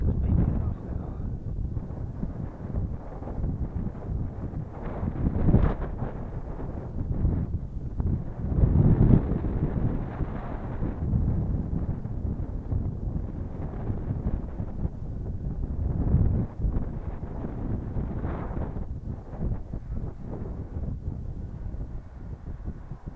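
Light wind blowing across the microphone while a 3.0 m² HQ Rush training kite is flown outdoors, a steady rumbling buffet with gusts swelling and easing throughout, close and fairly loud, with some voice mixed in.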